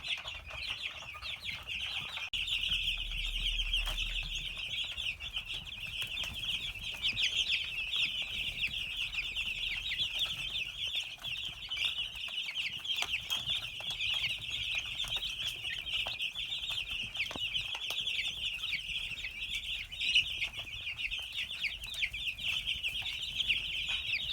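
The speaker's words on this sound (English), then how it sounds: "You can tell when chicks are distressed, they make a loud, high-pitched chirp." Many chicks chirp continuously in a dense, high-pitched chorus, steady and fairly loud throughout, with no talking.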